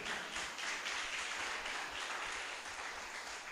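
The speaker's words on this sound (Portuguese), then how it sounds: "Pode aplaudir o Senhor." A church congregation applauding during a service, a steady, even wash of many hands clapping at moderate distance, fairly faint and continuous throughout.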